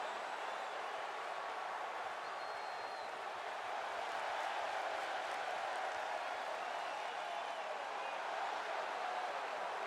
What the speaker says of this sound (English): Chain is milking the crowd for everything